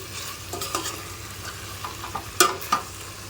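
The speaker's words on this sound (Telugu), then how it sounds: "ఇప్పుడు ఇది కూడా ఒకసారి రౌండ్ అప్ చేసేసుకుందాము" Chicken curry with garam masala being stirred in a pan: a steady frying sizzle broken by several sharp scraping and clacking strokes of the spoon, close up and without talk.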